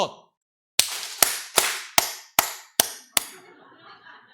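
During a counting game, an audience claps hands seven times in a sharp, evenly spaced burst after a brief silence, each clap crisp and close, then the room falls quiet.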